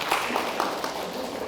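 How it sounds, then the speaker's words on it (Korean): Audience at a traditional market managers' award ceremony clapping, a quiet, short burst of scattered applause with no voices over it. "다들 박수 한번 치시고"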